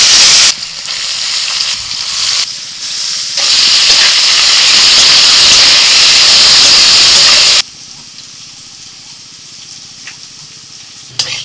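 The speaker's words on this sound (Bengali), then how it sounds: "ফোড়নে 2 কাঁচা লঙ্কা দিচ্ছি, নুন হলুদ মাখানো আলুগুলো দিয়ে দিচ্ছি" Potatoes coated in salt and turmeric drop into hot oil tempered with two green chillies, setting off a loud, hissing sizzle that spikes, then settles into a quieter, steady fry.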